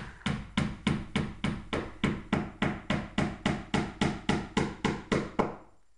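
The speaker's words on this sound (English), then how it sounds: "now the hammering of the little square nails" Small antique square-head nails are hammered into a pirate ship build with sharp, evenly spaced taps, about fourteen blows in a steady rhythm, close and clear, then silence.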